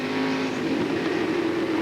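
World of Outlaws sprint car engine roars loud and continuous on throttle heading into a corner at Houston Raceway Park, a dense racing drone with a slowly rising pitch.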